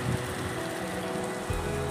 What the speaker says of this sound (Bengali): বৃষ্টি হচ্ছে কিন্তু খুব অল্প, এই এক ফোঁটা করে হচ্ছে